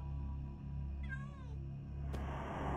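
A cat meows inside a horror game map, one wavering, drawn-out call in the middle of a steady low ambient drone, followed by a brief sharp click.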